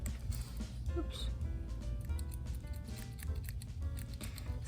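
Scissors snip and crunch faintly through yarn while crocheting a granny square basket, amid rustling handling noises and low background hum.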